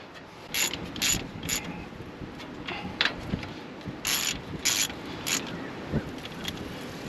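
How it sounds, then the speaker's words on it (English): Ratchet wrench tightening bolts on a rusty Doodlebug, a series of quick clicking ratchet bursts, some clustered and louder, repeating close by over a low background rumble. "Let's tighten some bolts down, and we will find out if we actually fixed anything."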